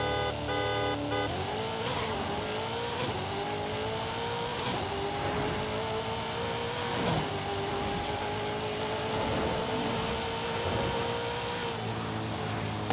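A turbocharged car running 22 psi of boost accelerates hard in Forza Horizon 5, its engine note climbing repeatedly through gear changes with brief dips between shifts, loud and steady with no talk.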